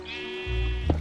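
A single drawn-out sheep bleat from the video game Minecraft, loud and close, with a low rumble joining partway through.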